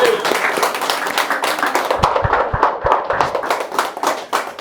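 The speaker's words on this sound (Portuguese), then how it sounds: "Dá uma salva de palmas aí." A church congregation claps in loose, uneven applause with scattered distinct hand slaps, over a lively room tone with some voices.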